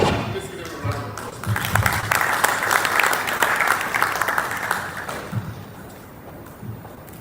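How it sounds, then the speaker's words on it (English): An audience at a business event on blue-collar employee welfare claps in a broad wash of applause that swells, holds for a few seconds and then fades, with some voices underneath. "Let's give them a round of applause."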